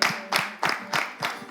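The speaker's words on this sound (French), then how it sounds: "Est-ce qu'on peut applaudir le livreur pour moi?" An audience applauds a delivery man in a studio setting, a brief, close burst of clapping in quick rhythmic pulses, lasting under two seconds.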